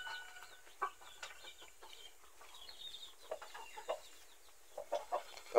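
Plymouth Rock chickens on a small farm give soft, scattered clucks and short calls, quiet and a little distant, with faint background noise between them.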